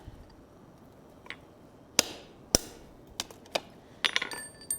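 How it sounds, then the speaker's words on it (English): Hammer blows ring out on hot steel over an anvil while an ornate bracket is forged: sharp metallic strikes spaced irregularly, several loud clear hits followed by a quicker cluster of lighter taps near the end. "I'm just kind of hammering down around the outside of it."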